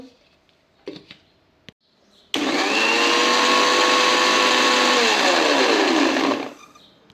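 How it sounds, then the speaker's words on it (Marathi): A kitchen mixer grinder blends muskmelon juice with milk and sugar, starting abruptly into a loud steady whirring motor whine that holds for about four seconds, then winds down and stops, with faint clicks before it starts. "आणि आपण आता मिक्सरमध्ये फिरवून देऊ"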